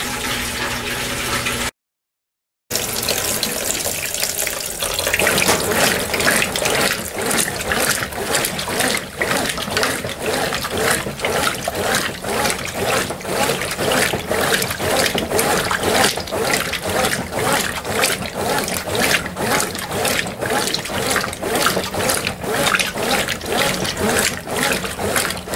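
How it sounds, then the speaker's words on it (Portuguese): A Brastemp Ative 11 kg top-loading washing machine drains its water in a steady, close rushing and trickling flow with a regular pulsing rhythm, continuing loud throughout after a brief gap near the start. "Agora ela vai fazer a drenagem e eu volto no segundo enxágue."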